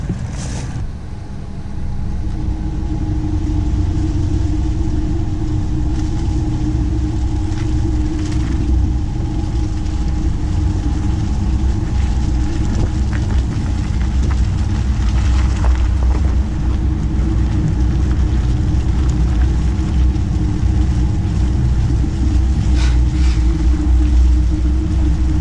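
A vehicle engine rumbles steadily at low revs while backing up along a dirt road in the north woods, a continuous close drone with faint crunches and knocks from the ground underneath.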